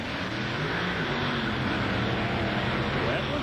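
A big Ford drag racing car, the Boss, makes a hard pass down an NMRO drag strip, a loud, dense engine roar holding steady for the whole stretch. Faint crowd or commentary noise sits underneath it.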